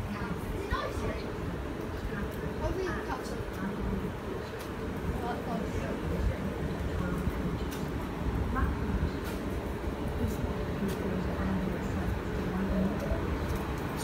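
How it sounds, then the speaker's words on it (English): A freight train rumbles past a large rail depot, a steady low mechanical drone with occasional clanks, heard under people talking. "the freight train. Yeah, this is a big depot."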